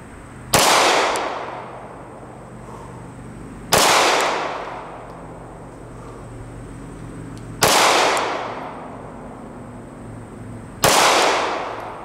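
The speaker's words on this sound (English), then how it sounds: "We're shooting off-handed, not shooting fast." Four handgun shots fired off-handed at 7 yards during a shot-in-shot walk-back drill, spaced about three to four seconds apart, each a sharp loud crack with a ringing outdoor decay.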